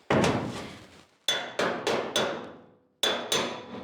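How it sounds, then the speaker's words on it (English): Sheet metal struck with a slapper over a steel dolly during hand metal shaping for a 1951 Ford: six sharp, ringing close-up blows in uneven groups, each trailing a bright metallic decay, with no voices. "I'm placing the dolly in a particular spot and using the slapper, and I'm hitting away from the dolly."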